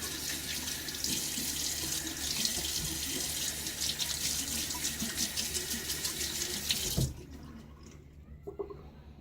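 Tap water runs steadily into a sink with a bright splashing hiss for several seconds, then shuts off, leaving a few faint drips and clatters.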